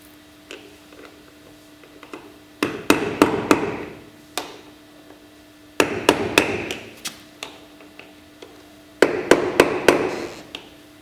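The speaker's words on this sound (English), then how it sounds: "we need to open up the gap between the wheel and the dust cap by tapping the screwdriver and prying" A hammer taps a screwdriver wedged between a wheel and its dust cap to pry the cap off, giving three bursts of sharp metallic strikes, several quick blows each, separated by pauses, close and clear.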